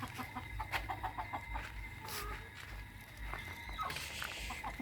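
Egg-laying chickens cluck and squawk intermittently nearby, with a few sharper calls standing out over a quiet outdoor background.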